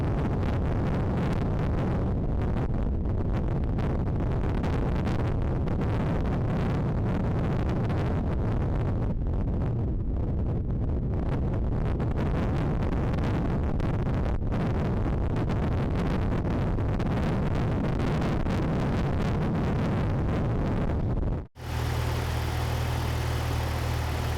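A Jeep engine runs after a heater core bypass, a loud steady idle with a rough, rumbling texture that continues for about twenty seconds before an abrupt cut to quieter hum.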